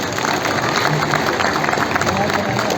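An audience applauds to welcome deputy chief minister Keshav Prasad Maurya at a BJP political gathering: dense, steady clapping and crowd noise holding at one level throughout, with some voices mixed in.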